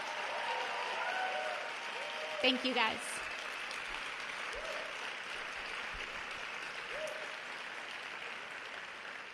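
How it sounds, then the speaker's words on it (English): An audience at an inaugural address in the Bronx, New York, claps in a sustained wash of applause that runs through most of the clip, and a voice speaks briefly over it. "So give them a big round of applause."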